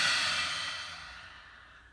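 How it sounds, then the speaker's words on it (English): A slow exhale from a yoga breathing exercise, one long airy breath out that starts fairly loud and fades gradually, alone with no talk. "Breathe in, breathe out."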